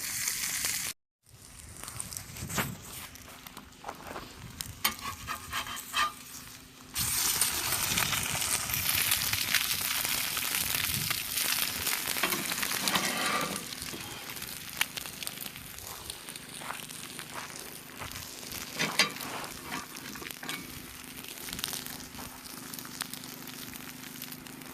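Steak and eggs fry in a pan at a campsite in Joshua Tree, giving a steady crackling sizzle with scattered pops, close and continuous after a brief pause near the start.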